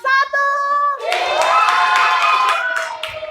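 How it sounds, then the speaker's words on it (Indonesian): Classroom applause for a student group during a teacher training session, rising from a tonal sound into a full burst of many hands clapping with some children's voices and cheering mixed in. "Tepuk tangan untuk kelompok"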